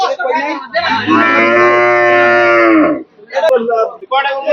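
A cow at Gabtoli cattle market lets out a loud, close, drawn-out moo lasting about two seconds, with shorter vocal sounds and people's voices before and after it.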